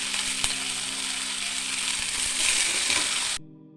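Long-sliced onions fry in hot oil for a masala dosa filling, a loud, dense crackling sizzle heard close up with a couple of sharp clinks before it cuts off abruptly near the end.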